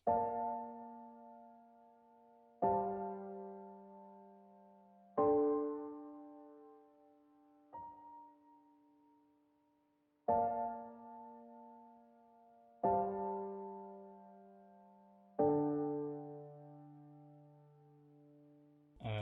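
Sampled Addictive Keys piano plays sustained chords for a beat, seven struck chords spaced evenly a few seconds apart, each ringing out and fading before the next, clean and alone.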